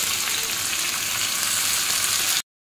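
Spinach dropped into a hot pan of oil on a gas stove fries with a loud, steady sizzle that runs unbroken for a couple of seconds and then cuts off abruptly, with no voices.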